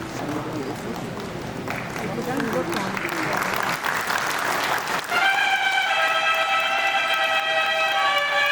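Applause at the inauguration of the International Bonsai & Suiseki Confluence in India: a dense wash of clapping from a crowd for about five seconds, then a sustained, ringing musical tone takes over.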